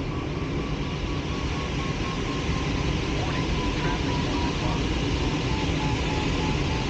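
A glider aircraft departs from Buochs airfield in Switzerland, heard as a steady, broad, dense roar with a faint tonal whine that fills the whole stretch without letup.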